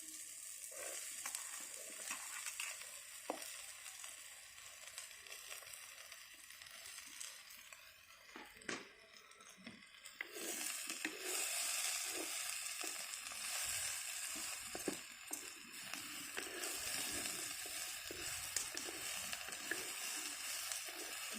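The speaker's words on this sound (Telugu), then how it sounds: "బెండకాయలు కూడా బాగా ఫ్రై అవ్వాలి." Okra (ladyfinger) frying in a pan alongside ridge gourd peels, a continuous soft sizzle with occasional stirring scrapes and clicks, close but quiet.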